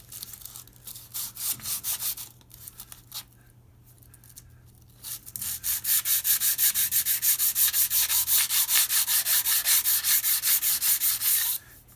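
Brake lathe surfaces are flattened by hand sanding. Rhythmic rubbing strokes come close and clear, irregular at first, then a steady fast back-and-forth run with no talk.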